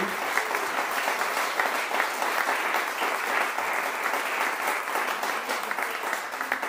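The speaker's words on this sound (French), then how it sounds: "Est-ce qu'on peut applaudir le Seigneur, applaudir l'équipe aussi pour ce temps magnifique devant lui?" A church congregation gives sustained, even applause. The dense clapping from many hands holds steady throughout at moderate loudness, with no talk over it.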